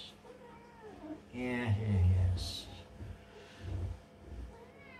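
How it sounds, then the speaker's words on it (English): A pet cat meows indoors, a couple of close, drawn-out calls in the middle of the clip, with someone speaking briefly around them. "Cat is bugging."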